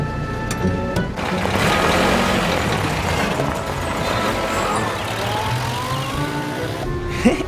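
A car engine approaches with a rising, steady roar that holds loud and close for several seconds before easing, with a brief clunk near the end.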